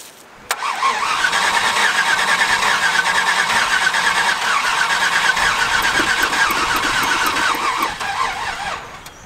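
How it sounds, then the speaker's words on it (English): A truck engine cranks briefly on a lithium-ion jumper pack, then catches and runs at a loud, steady idle close by for several seconds before easing off at the end. "with the lithium ion pack, it actually turned the truck over much faster"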